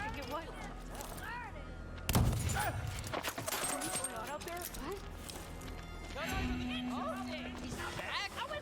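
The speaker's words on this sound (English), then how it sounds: "she was shooting at me from a distance" Distant enemy gunfire in the video game Deathloop comes as a few sharp shots, one louder burst standing out, under ongoing speech and game sound.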